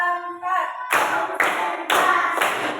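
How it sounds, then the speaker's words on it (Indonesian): Group clapping in unison to a counted rhythm, a short voice at the start, then four evenly spaced bursts of claps, near and moderately loud. "Tepuk 1, tepuk 2, tepuk 3"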